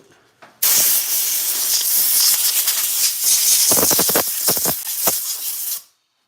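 A hose sprays a hard jet of water to blast dirt out, a loud, steady broadband hiss that starts abruptly and runs for about five seconds, with brief choppy bursts near the end before it cuts off.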